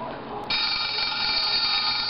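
A WT588D sound module plays a telephone ring: a buzzy, bell-like electronic tone that switches on and then holds steady and loud to the end, over a low background.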